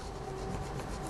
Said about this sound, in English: rub the rub-ons onto your card